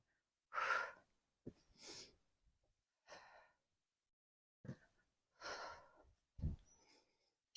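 Sharp breathy exhalations from someone doing a glute workout, several short puffs spaced in an irregular rhythm with quiet gaps between, close and fairly soft.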